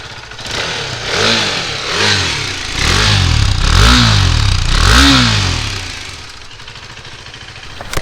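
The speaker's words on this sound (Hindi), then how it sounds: "ये बात करते हुए हम सुनते हैं गाड़ी का एग्जॉस्ट नोट कैसा है।" A 2022 KTM RC390 motorcycle revved repeatedly while stationary, five or six rising and falling exhaust blips close by, then settling to a steady idle.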